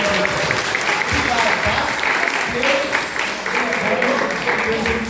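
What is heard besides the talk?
applause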